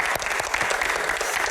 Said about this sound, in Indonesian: Tepuk tangan untuk Bang Akbar.